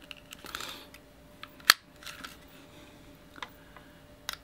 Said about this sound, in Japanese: スライドを引いてみると